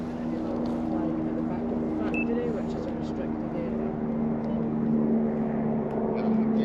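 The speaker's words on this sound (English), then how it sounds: "Yes, it's a drone, yeah." A drone flies overhead near a factory building, giving a steady high-pitched motor whine that holds throughout over outdoor background noise.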